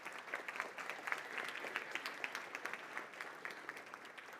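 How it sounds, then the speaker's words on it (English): Steady audience applause with many hands clapping at once, a dense continuous patter at moderate level with no voices over it. "give him a big round of applause."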